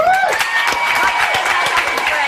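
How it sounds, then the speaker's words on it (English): Studio audience applause and cheering on The Xtra Factor results show in 2009, loud and steady throughout with dense clapping, a few whistles and crowd noise. "Big round of applause for judges."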